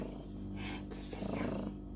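A cat purrs very close up in a continuous, rumbling, rhythmic drone, with a voice faintly present in the background.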